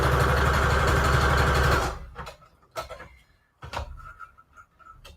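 A sewing machine stitches fabric and lace scraps into trim with a steady, close whir for about two seconds, then stops. Several sharp clicks and soft handling bumps follow as the fabric is adjusted.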